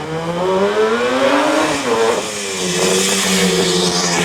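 Vintage 1974 Yamaha RD350 two-stroke motorcycle fitted with DG expansion pipes, its engine note rising and falling through revs as it rides close by, a continuous loud buzzing drone with a dip mid-clip.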